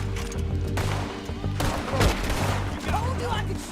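Rapid gunfire in a Red Dead Redemption 2 shootout, with overlapping shots and bursts crackling continuously over a loud, busy mix, and a voice speaking faintly beneath.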